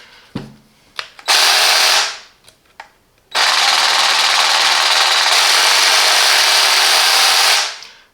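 A Parkside 20V cordless jigsaw revs in bursts: a few short clicks and blips, a loud whine of about a second, more taps, then a sustained loud run of roughly four seconds that winds down, close and alone.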